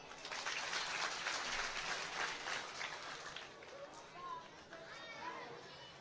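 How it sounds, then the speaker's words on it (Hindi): Audience applause at a spiritual discourse gathering: scattered clapping and crowd chatter at moderate distance, fairly steady, easing slightly toward the end, with voices mixed in. "तालियां।"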